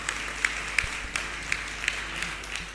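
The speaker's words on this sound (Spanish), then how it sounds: "¿Cuánto le dan un aplauso al Señor?" A church congregation gives a round of applause to the Lord during a sermon, a steady, fairly faint patter with several sharper individual claps standing out at irregular moments.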